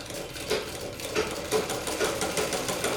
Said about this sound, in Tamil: இதே மாதிரி இந்த எண்டு வரைக்கும் தைச்சிடணும்